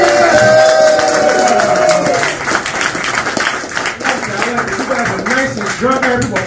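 An audience at a stand-up comedy special claps and cheers for comedian Kadeem Richardson, a loud, dense wash of applause that fills the room and slowly thins out, with voices mixed in.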